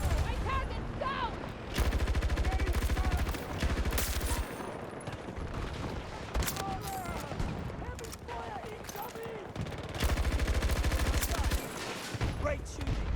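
Rapid automatic gunfire in Battlefield 2042, loud sustained bursts coming back in several long stretches with shorter pauses, under scattered voices and battlefield noise.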